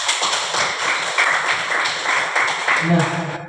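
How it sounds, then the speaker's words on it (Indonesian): An audience at an evaluation meeting claps in a dense, brisk burst of applause lasting a few seconds, fairly close and even, tapering off at the end. "Oke, berikan tepuk tangan."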